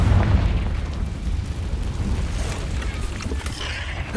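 Confringo fire-blast spell exploding in Hogwarts Legacy, a low rumbling boom that starts loud and slowly decays into a broad roaring wash for several seconds.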